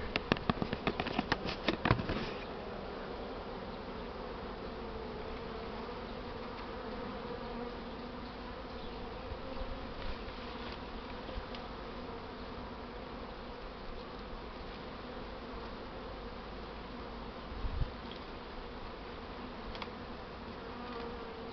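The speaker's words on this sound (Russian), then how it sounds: "Все, коробка с пчелами висит возле улья." A large swarm of Buckfast honey bees hums and drones steadily near the hive, a dense continuous buzz outdoors, opened by a few sharp knocks and with an occasional thump later on.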